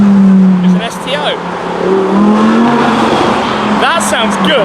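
An STO sports car drives past with a loud engine note and brief tire squeal. The sound rises and fades, and people talk nearby.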